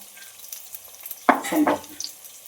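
Onions sautéing in oil in a clay pot while a fish curry is being prepared, a soft sizzle with two brief louder bursts of stirring and frying near the middle, close and fairly quiet.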